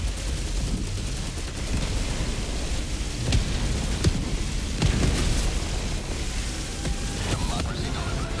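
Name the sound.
orbital barrage explosions in Helldivers 2 video game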